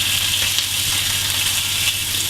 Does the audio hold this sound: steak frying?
yes